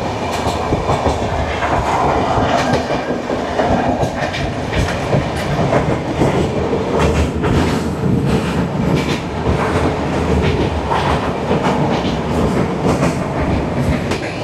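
The Falaknuma Express runs from Howrah toward Hyderabad with loud, continuous rumble and rhythmic clickety-clack of wheels over rail joints, heard close and steady throughout.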